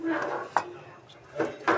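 A karai (wok) is set down on a kitchen stove before frying tengra fish: one short metallic clunk early on, followed by a couple of softer knocks, all under steady talk.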